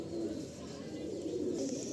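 Pigeons coo softly in a loft, a low continuous throaty burble filling the short stretch without any talk.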